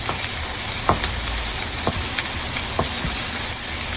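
Onion, chili and garlic fry in a pan with a loud, steady, close hiss that never lets up, broken by a few faint clicks.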